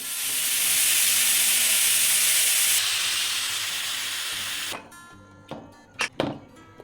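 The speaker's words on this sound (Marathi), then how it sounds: "तसा आपण या कुकरची सगळी हवा काढून घेऊया." A pressure cooker of dal has its steam released after cooking, making a loud, sustained hiss for several seconds. The hiss then cuts off, followed by a few metallic clunks and knocks.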